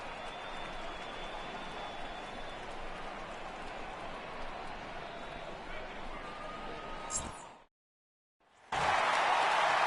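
Crowd noise from a baseball game in MLB 18 fills the stands with a steady, broad roar for several seconds, drops to a brief silence, then surges back louder and brighter as the cheering swells.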